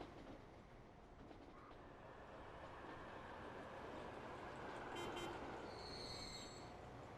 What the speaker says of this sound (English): Our first true high-speed train on low-speed tracks.